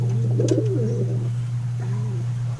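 Pigeons coo in a breeder loft, a few soft throaty coos close by over a steady low hum, with no talk.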